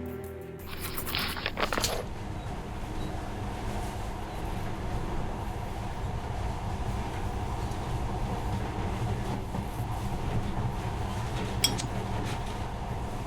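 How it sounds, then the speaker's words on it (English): A monorail train runs in the Metro Last Light video game with a steady low rumbling drone and faint rattles, after a brief louder clatter at the start and a small click near the end. "But now, this monorail seems magic, doesn't it?"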